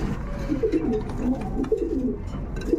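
Soft, low pigeon cooing repeats in throaty, rolling phrases, close by and continuous over a faint background hum.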